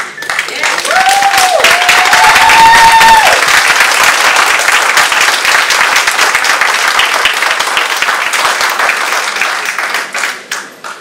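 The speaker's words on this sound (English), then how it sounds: "I just want to ask if we could have a round of applause and appreciation for Attorney John Murphy" Community residents at a northeast Baltimore neighborhood meeting give a loud, sustained round of applause for an attorney, with a brief vocal whoop early on and the clapping tapering off at the end.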